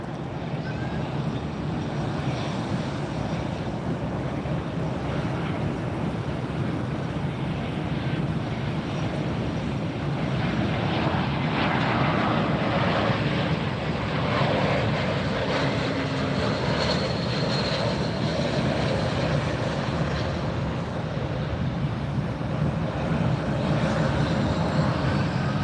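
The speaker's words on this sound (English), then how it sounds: "JetBlue coming in from Vegas, an A321-200 series," A JetBlue Airbus A321-200 arriving from Las Vegas at Fort Lauderdale airport produces a steady, loud jet engine roar that swells gently over a long stretch, heard from the ground with no talk over it.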